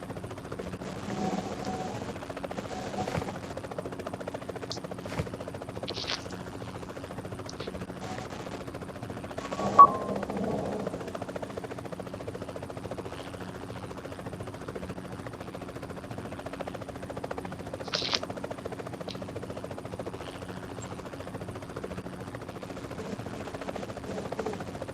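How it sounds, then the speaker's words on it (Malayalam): A helicopter in the battle royale game BGMI drones faintly and steadily, with scattered bursts of gunfire across the stretch. "ഹെലികോപ്റ്റർ എടാ"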